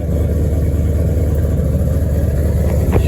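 A cammed Ford Mustang with a check engine light on idles right after a cold start, a steady low rumbling drone that is close and even throughout, with no talking.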